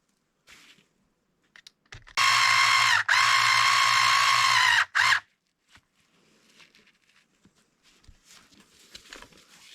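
A power driver whirs in two bursts, about three seconds then under a second, sending a hex-ended headless screw into the sway bar mount of an Arrma Outcast 8S 1/5-scale RC car, loud and close, with light handling clicks around it.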